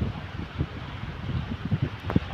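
Steady blustery wind buffeting a microphone at a kite surfing spot on Boracay Island, Philippines, a low rumbling roar with gusty surges and no voices.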